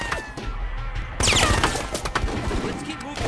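Gunfire from Full Spectrum Warrior, a 2004 squad-based military video game: a sudden loud burst of rapid shots and crashing impacts cuts in partway through, over continuous battlefield noise and shouted voices.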